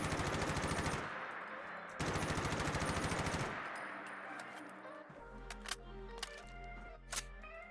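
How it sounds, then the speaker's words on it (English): Rapid automatic bursts from an M4A1 rifle in a modded Fallout 4, two loud sustained volleys followed by a string of metallic reload clicks and clacks over a low hum. "We have the firing and reloading."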